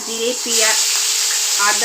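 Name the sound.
ginger, grated onion, garlic and tomato sizzling in hot oil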